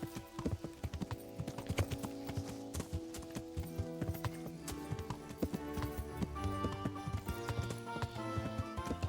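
Horse hooves clip-clop steadily and close by in Kingdom Come: Deliverance, layered over a busy game soundtrack of music and ambient sounds.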